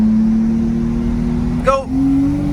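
A Nissan R32 Skyline sedan engine drones under load, then blips sharply on a quick downshift before settling back to a steady pitch, heard from inside the car.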